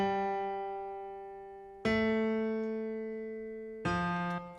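Single notes of a 1-5-6-4 progression in C are played as three sustained synth tones, each attacking cleanly and fading slowly before the next lower-pitched note enters, alone and quiet with no talking.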